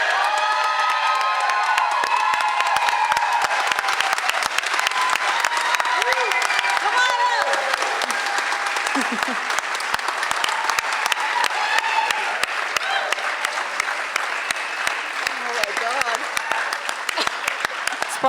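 A theatre audience at a poetry contest applauds and cheers for the winner, sustained loud clapping with whoops and shouts rising through the crowd, voices calling out over the steady roar.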